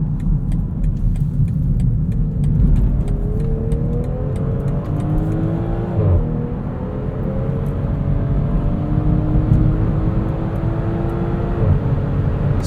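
A 2020 BMW X5 xDrive40i is driven hard through a corner, heard from inside the cabin: a loud, steady engine drone whose pitch climbs and falls with the throttle over road rumble, with no talking.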